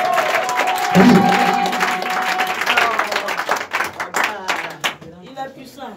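A church congregation in Divo, Côte d'Ivoire applauding loudly, dense clapping that thins into scattered claps and fades, with voices mixed in.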